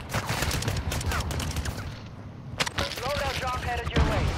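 Rapid automatic gunfire in the online shooter Warzone, dense bursts of shots under excited voices of players talking over the action, loud and continuous.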